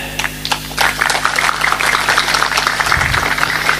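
Audience clapping at a religious lecture gathering, a steady crowd of hands patting briskly throughout, moderately loud and close, with a low hum underneath.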